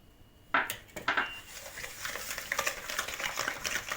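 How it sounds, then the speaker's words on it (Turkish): A whisk clinks and scrapes rapidly against the side of a bowl beating eggs and sugar, starting with a few sharp taps and then settling into a steady beating rhythm. "Ve şekerli yumurtamızı çırpmaya devam ediyoruz."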